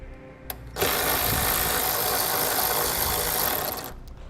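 Powered tool spinning off an 8mm nut holding the taillight assembly on a 2015 Nissan Altima, one loud continuous whirring burst lasting about three seconds, close by.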